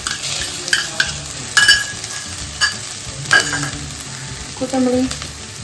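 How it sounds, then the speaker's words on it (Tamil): Ginger garlic paste fries with cooked onions in a pan for a goat intestine mutton gravy, as a steady sizzle runs under the repeated scrape and clatter of a spatula stirring close by. "இந்த டைமில் வந்து இஞ்சி பூண்டு பேஸ்ட்டு போட்டுடலாம்."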